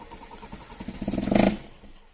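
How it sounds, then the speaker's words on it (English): Toyota 2E engine fitted with a TRD camshaft cranking and catching, a short rising burst of rapid clattery pulses that swells loudly and then drops back near the end. "we'll give it a wee bit of a start now"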